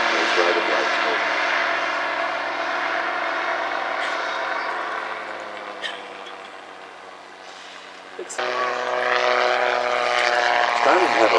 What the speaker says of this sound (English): you can see how the aircraft can slow fly as well. So it does not have to be moving at a great rate of knots to keep those rotor blades moving